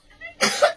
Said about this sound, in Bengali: কাশি হচ্ছে ভালোই।